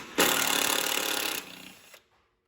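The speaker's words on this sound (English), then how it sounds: "We just got a 1/4 inch 12 volt Makita." A Makita 1/4 inch 12 volt power tool whirs loudly for just under two seconds on a 1999 Acura CL repair, starting abruptly and winding down before falling silent.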